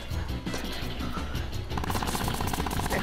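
Rapid gunfire rattles continuously in Plants vs. Zombies: Battle for Neighborville, loud, dense bursts over a busy game soundscape with a brighter, faster stream of shots in the latter half, no talk.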